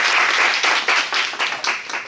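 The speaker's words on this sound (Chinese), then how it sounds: "请大家掌声欢迎刘老师" An audience applauds to welcome a lecturer at a talk on Hong Kong Buddhism, with dense clapping from many hands that stays close and loud and then thins out slightly toward the end.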